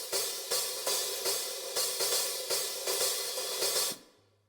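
An Alesis Strike electronic drum kit's hi-hat, with the mute group switched off for the bow and edge zones, struck in a steady pattern of about eight bright, close strikes that ring out evenly and stop abruptly near the end.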